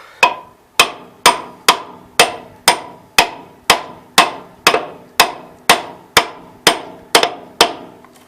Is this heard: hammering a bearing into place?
yes